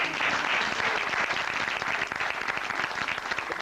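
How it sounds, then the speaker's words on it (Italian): Audience applause fills a live comedy-theatre show at Teatro In Portico in Rome, a dense, loud wash of clapping that holds steady for the whole stretch. "Un applauso a loro"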